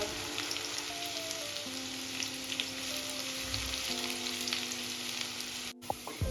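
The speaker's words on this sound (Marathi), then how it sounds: "चॉप केलेला कांदा ऍड करून घ्यायचा इथे आपल्याला कांदा छान गोल्डन कलर येईपर्यंत परतून घ्यायचा आहे" Chopped onion sautés in hot oil for a prawn masala, a continuous soft sizzle and crackle throughout with steady background tonal hum, no voices.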